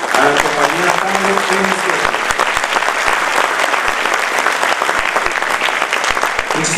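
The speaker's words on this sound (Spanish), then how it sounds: "Démosle con un fuerte aplauso a la compañía Tango." Audience at a tango company performance in Samacá clapping loudly and steadily throughout, a dense sustained applause from a crowd, with brief voices near the start.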